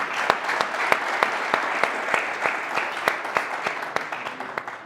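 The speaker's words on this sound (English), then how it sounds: "Round of applause for Mr." An audience claps steadily at a college graduate event, a full room of applause with a few sharp, prominent claps standing out near the microphone, and no voices over it.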